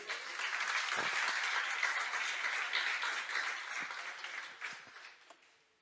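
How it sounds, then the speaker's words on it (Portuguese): A church congregation claps together in praise during a sermon, a fairly soft, continuous patter of many hands that swells early and then fades out over about six seconds. "Você pode aplaudir o Senhor?"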